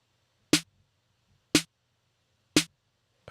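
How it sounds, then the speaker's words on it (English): Three dry snare drum hits from a deep house track, with no degradation plugins applied, struck at an even one-second pace, each a sharp crack with a short decay, alone in silence. "snare basically sounds like this without the plugins which I used"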